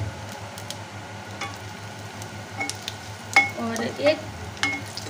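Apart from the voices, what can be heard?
spice masala mix sizzling as added to frying pan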